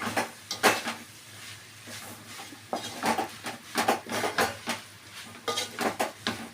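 A utensil stirring coriander into food in a pan, with a series of scraping, clinking strokes on metal, close and fairly quiet, coming in irregular bursts.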